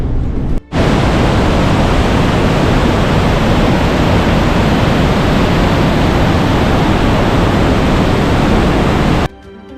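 A roaring underground waterfall inside a huge cave canyon thunders as a loud, dense, unbroken rush of water, cut off abruptly near the end.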